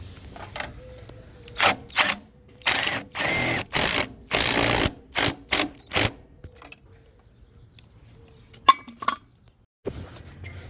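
A ratchet socket wrench works on the transmission bolts of a K-series car, giving several short bursts of close, sharp metallic clicking separated by pauses.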